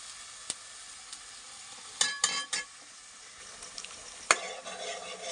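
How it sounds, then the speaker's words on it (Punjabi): Spice masala for aloo paneer roasts in a pan with a soft continuous sizzle, broken by a few scraping stirs and clinks of a spoon against the pan. "ਲਓ ਜੀ ਮਸਾਲਾ ਆਪਣਾ ਚੰਗੀ ਤਰ੍ਹਾਂ ਭੁੰਨਿਆਂਗੇ"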